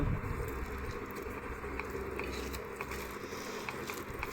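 Close, steady chewing and biting of a home dinner of rice, potato and meat, soft wet mastication sounds repeating with faint clinks over a quiet room.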